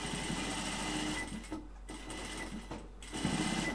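Binding sewing machine stitching a fabric mask, a close steady mechanical chatter of the needle running in bursts, with brief pauses between runs and no talking.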